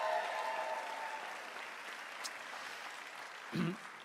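Audience applause at the naming ceremony of the Carnival Celebration cruise ship in Miami, a steady, moderate wash of clapping from a large crowd that thins slightly over the few seconds.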